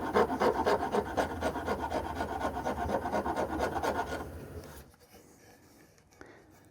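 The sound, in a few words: coarse round file shaping a wooden guitar neck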